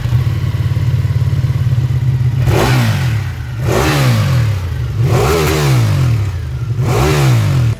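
A 2019 Ducati 959 Panigale motorcycle idles with a steady low rumble, then revs up four times in sharp throttle blips, each one climbing and falling back, close and loud.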